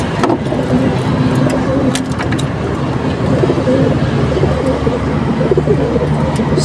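Pigeons coo in soft repeated low calls while being fitted with leg rings, with faint clicks and background rumble around them.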